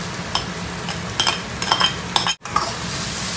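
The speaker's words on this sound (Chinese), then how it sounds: "大火炒香" Garlic, ginger and small green and red chilies stir-fried over high heat, a constant close sizzle broken by quick metallic clinks and scrapes of a spatula in the wok, with a brief gap of silence partway through.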